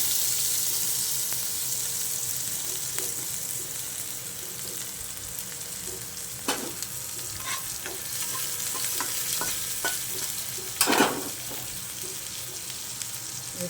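Potato pieces and grated coconut stir-fry dry in a pan, a steady close sizzle with occasional scraping stirs and clinks of the utensil against the pan.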